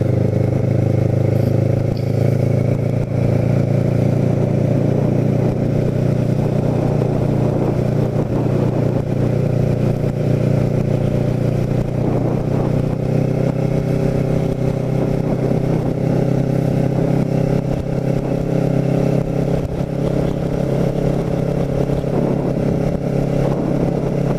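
A Kawasaki Ninja motorcycle ridden through the streets of Cape May in January, its engine droning steadily and loudly close up with wind rush and slight rises in revs, no voices over it.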